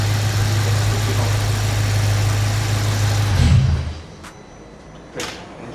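A warm Audi RS4 engine idles with a steady low hum for several seconds, then cuts off, leaving a quieter background with a couple of short knocks or clicks nearby.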